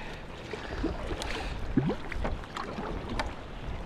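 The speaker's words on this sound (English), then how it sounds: "now I've got to put some effort into paddling." Kayak paddle strokes dip and pull through the water of Loch Sween, a sea loch, with a steady wash of wind and lapping water around a small boat and a brief splash near the middle.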